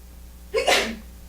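A single sharp sneeze, close and fairly loud, bursting out of a quiet room and fading quickly.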